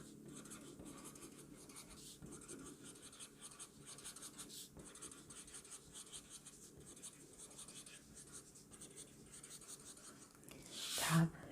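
Pen writing by hand on a pop-up book page, a soft steady scratching that runs throughout at low level, with a brief louder scrape near the end.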